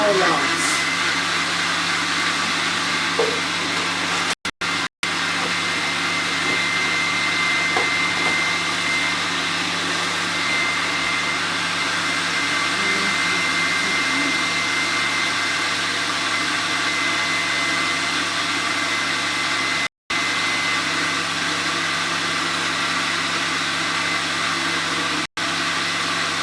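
A blender runs steadily while mixing a protein shake, a continuous loud whirring drone across the whole stretch with a few abrupt brief cuts.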